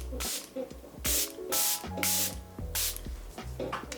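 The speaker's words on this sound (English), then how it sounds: "Setting spray, I'm going to take my Charlotte Tilbury and do this." Charlotte Tilbury setting spray mists out in several short, hissing pumps from close by, each burst sharp and airy, with quiet rustling between them.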